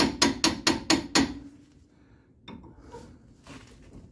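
Six sharp, evenly spaced metallic hammer blows strike a tie rod end on a 2010 Dodge Ram 1500 4x4, loud and close, followed by fainter clanks and shuffling.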